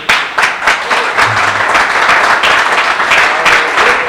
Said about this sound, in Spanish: dan un aplauso al Señor o algo, ¿no?